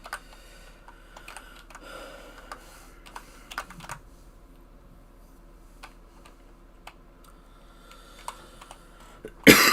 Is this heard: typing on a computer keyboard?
yes